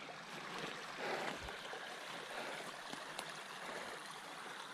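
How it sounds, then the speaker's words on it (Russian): Clear spring water runs down toward a river in a steady, soft, hissing stream, faint and continuous, with no voices. "Чистейшие родники текут."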